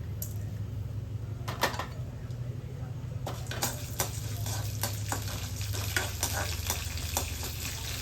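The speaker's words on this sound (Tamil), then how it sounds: "உளுந்து பருப்பும் கடலைப்பருப்பும் பொன்னிறமாக வர வரைக்கும் வறுத்துக்கலாங்க" Urad dal and chana dal fry in sesame oil in a deep pan, a steady close sizzle with a low hum and scattered sharp scrapes and clinks of stirring, no voices.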